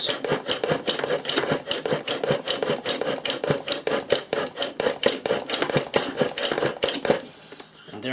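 A friction fire drill of the KIKAIDER type spinning on wood to make a coal gives a fast, rhythmic rasping rub, steady repeated strokes close up that ease off near the end.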